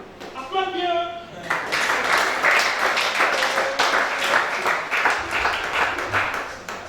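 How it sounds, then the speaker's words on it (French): Applause from a congregation at a 2020 prayer vigil in Gabon, a steady dense patter of clapping that starts after a brief sung or spoken opening and continues beneath voices calling out. "Applaudis bien."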